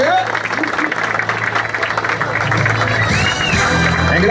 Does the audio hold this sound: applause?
yes